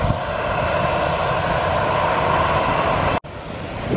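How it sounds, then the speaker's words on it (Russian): Jet airliner engines roar at full takeoff thrust near Mai Khao Beach beside Phuket airport, a loud, steady broadband blast that holds for about three seconds before briefly cutting out, then resumes. "Включает турбины, моторы на всю."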